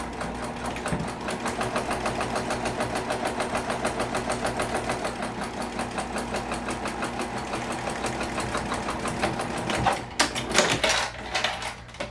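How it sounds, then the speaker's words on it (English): A sewing machine stitches steadily, basting a bag pocket to its lining. The needle chatters close and even for about ten seconds, then stops, followed by a few brief handling noises. No one speaks. "you're going to baste this pocket to the lining"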